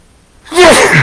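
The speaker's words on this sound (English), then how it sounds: "I'm going to sneeze here, I think." A single loud, close sneeze from a man, with a short indrawn breath followed by a forceful burst.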